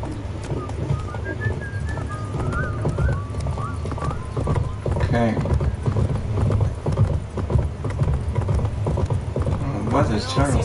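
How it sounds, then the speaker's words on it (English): Hooves of the horse Roach clip-clop steadily at a gallop in The Witcher 3: Wild Hunt, a continuous rhythmic pounding with faint bird coos and game ambience, while a voice talks briefly over it. "Run, Roach"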